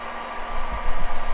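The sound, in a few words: heat gun blowing hot air to seal plastic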